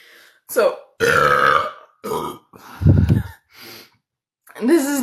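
Several loud, close burps in a row, deep resonant belches separated by short pauses, some stretched out and croaking, with breathy sounds between them.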